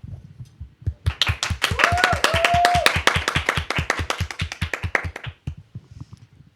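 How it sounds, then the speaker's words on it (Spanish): A small group claps in a steady rhythmic beat, close and distinct, with a brief whistle or voice tone over it, then the claps thin out and stop. "para lo cual pido un fuerte aplauso"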